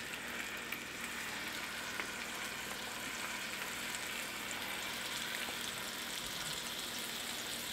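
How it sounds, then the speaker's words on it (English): Steaks sizzle steadily in a hot pan that has been warmed and turned down, a dense, even frying hiss running continuously from start to finish with no talk over it. "once I get the pan warm, I turn it down, and then the steaks go in"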